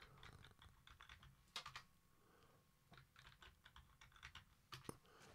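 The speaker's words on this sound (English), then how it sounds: "And enter a password for OTB." A password is typed on a computer keyboard during a Linux install, soft irregular key taps in short bursts with a few sharper clacks, close and quiet with no talking.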